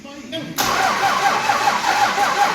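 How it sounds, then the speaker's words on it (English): A 12 valve Cummins diesel engine cranks briefly and then catches, settling into a loud, close, continuous mid-pitched running rumble, with a voice in the background. "You cranking it like that, get a little bit of oil pressure through it first."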